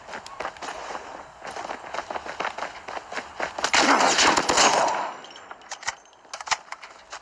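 Gunfire in an online shooter video game rattles in quick bursts, building to a dense, loud stretch of rapid shots before thinning out to a few scattered cracks.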